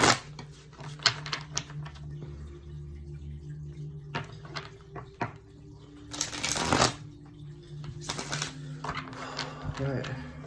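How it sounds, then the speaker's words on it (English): Tarot cards being shuffled by hand, giving repeated bursts of riffling and flicking against low background hum, with louder surges around the middle and near the end. "2 more shuffles."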